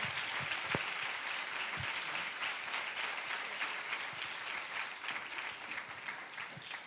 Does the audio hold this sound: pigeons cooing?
no